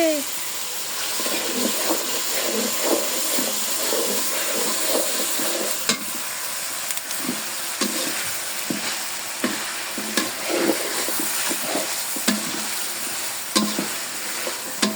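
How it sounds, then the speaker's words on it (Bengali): Fish head and rice for muri ghonto sizzling and being stirred in a pan, with steady frying crackle and repeated scraping stirs throughout, fairly close. "আজকে আমরা রান্না করছি মুড়ি ঘন্ট। এটা আমার মামি রান্না করতেছে।"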